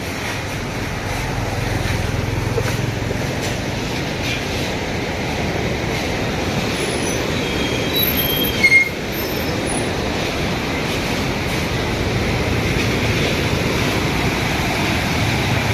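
Virupa river water rushing hard through the dam gates at Chowdwar, Cuttack, a broad, steady roar that holds at an even level throughout with no pauses.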